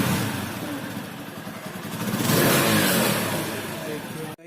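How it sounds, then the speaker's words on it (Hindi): TVS Apache RTR 160 motorcycle engine revs loudly and close, rising to a peak midway then holding, heard alone with rain in the background and no talk. "तो ये बाइक का साउंड है"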